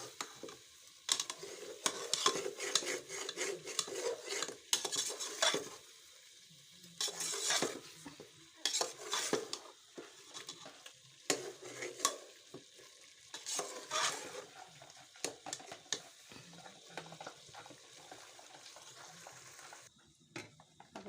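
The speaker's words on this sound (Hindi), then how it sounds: "इसको सही तरह भूनना है ताकि इसी में गल जाए।" Yogurt-based masala for chicken korma is stirred and fried in a pan, giving a steady sizzle with repeated scraping and clinking of a spoon against the pot, close and continuous, with no talk.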